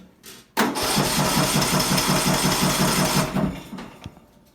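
A racing lawnmower engine cranks and catches after a quiet moment, then runs loud and close with a fast, chugging putter for about three seconds before it cuts off and fades away.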